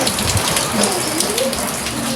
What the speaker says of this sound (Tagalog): Pinapatila ko lang talaga yung ulan kasi wala kaming payo